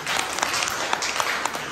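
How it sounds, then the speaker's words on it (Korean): An audience at an evening public lecture on European art at a gallery applauds two speakers, a dense, steady wash of many hands clapping together from start to finish. "오늘 두 분 박수 한번 쳐주십시오."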